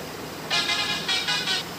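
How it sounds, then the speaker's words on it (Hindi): A bus horn in the video game Bus Simulator Kerala honks in several short, loud blasts, two bursts then three, over a low engine hum, the bus moving at about 50-60 km/h. "ये सिंपल हॉर्न आपको देखने को मिलता है"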